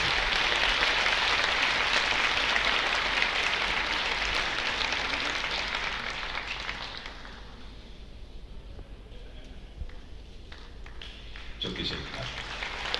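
A large open-air crowd at Harbiye, during the İKSV music festival, breaks into loud, dense applause that holds steady for several seconds and then gradually fades to a quieter, thinner patter with scattered claps.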